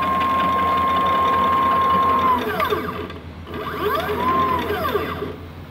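A sturdy homemade CNC machine runs at full speed, a loud steady motor whine with rising and falling tones as the axes accelerate and reverse, close up and alone.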